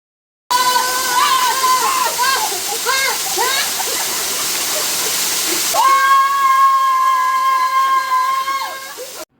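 Sitraruvi waterfall with rushing water, a dense broad roar running continuously, overlaid by loud warbling whistle-like tones partway through and a steadier held tone near the end.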